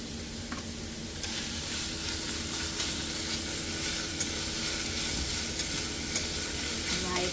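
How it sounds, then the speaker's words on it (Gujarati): Vegetables with soy sauce and ginger-chili paste sautéing in a pan, a steady loud sizzle and hiss of frying with occasional stirring scrapes and clicks running without a break throughout. "જોઈ લો ફર્સ્ટ ક્લાસ સરસ સોટે થાય છે."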